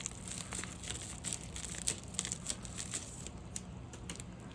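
A package cut open and unwrapped, close and steady crinkling and tearing of plastic and paper with rapid small crackles running throughout and no talk.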